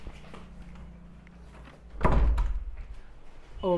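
A door closes with one heavy thunk, followed by a brief rattle and faint indoor shuffling, shut to keep a child in another room.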